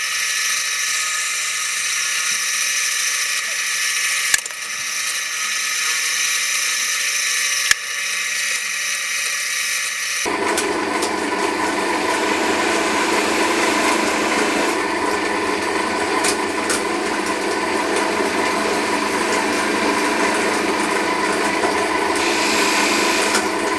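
Power sanding of a wooden Christmas cracker ornament, a high-pitched whine that shifts partway into a louder, rougher grinding tone, continuous and close.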